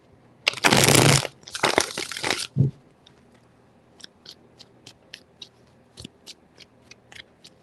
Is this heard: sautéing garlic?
no